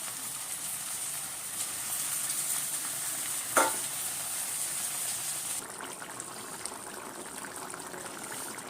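Red amaranth leaves (lal shak) frying with browned onion and chili in a pan, a steady broadband sizzle with stirring, one sharp scrape or clatter midway, quieter toward the end, no talking.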